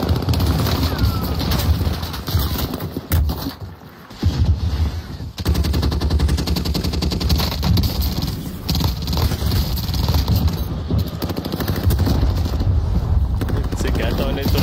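Rapid bursts of automatic gunfire from GTA San Andreas rattle almost continuously with a brief lull, loud and dense, mixed with game effects and someone talking over it.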